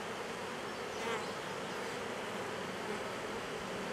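A huge honeybee colony in a hive produces a dense, continuous buzzing drone, steady and close, with no speech over it.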